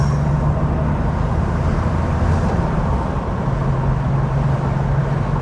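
A 1988 Porsche 911 heard from inside the cabin as it downshifts to third and accelerates: a loud, steady engine and road drone with a low, humming engine tone that fades briefly mid-way, then returns. No voices.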